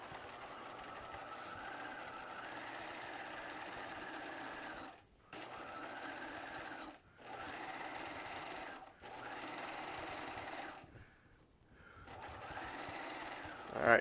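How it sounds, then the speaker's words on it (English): A sewing machine running ease stitches into a garment sleeve whirs steadily and close in four long runs, each separated by a short pause, with a faint voice underneath. "we're going to stitch at a 1/2 inch right on our seam allowance"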